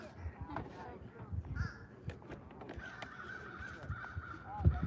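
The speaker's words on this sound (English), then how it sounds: "I hear crows out here." Crows caw a few times outdoors, fairly distant, during a boat ride, amid low rumbling background noise and some faint human voices.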